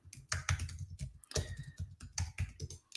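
Quiet, close typing on a computer keyboard: irregular bursts of soft key clicks with brief pauses between, no voices.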